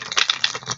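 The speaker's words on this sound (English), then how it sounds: "One more shuffle." Quick papery riffling and flapping as a deck of tarot cards is shuffled close by in a short burst.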